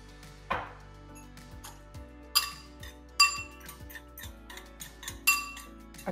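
Coconut and table sugar stirred together in a bowl give a run of close clinks and taps, some sharp, others soft, spaced unevenly over several seconds.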